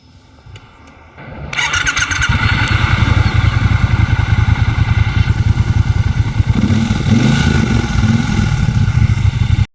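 A 1200cc bobber motorcycle engine cranks and fires up, then settles into a loud, close, steady idle for several seconds.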